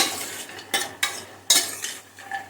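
Dried lentil dumplings, sandge, tossed in hot oil over a low flame, heard as close metal spatula clinks and scrapes against the pan about every half second over a faint sizzle, with no one speaking.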